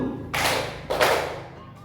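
A class claps in unison twice, two sharp full-room bursts about half a second apart, close and clear over a faint hum.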